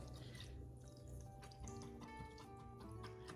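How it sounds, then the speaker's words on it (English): Liquid from jarred roasted red peppers draining into a bowl, a steady close trickle and drip with faint clinks, heard alone. "So I'm just gonna pour them into the bowl here to get the liquid out."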